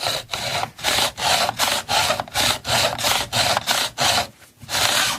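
A square-edge file takes the overhang off a fret on a Sunn Mustang Strat during a refret: about eleven loud, rhythmic rasping strokes with short gaps between them, close up and with no talk.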